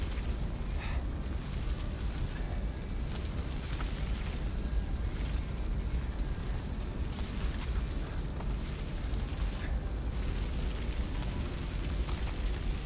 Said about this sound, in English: Yeah, but now everything's on fire.